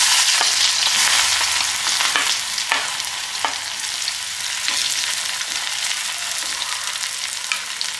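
Chopped shallots frying in hot coconut oil, a loud continuous sizzle and crackle up close, with occasional stirring scrapes and no voices.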